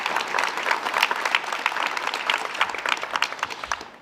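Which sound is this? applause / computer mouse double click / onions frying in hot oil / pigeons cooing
applause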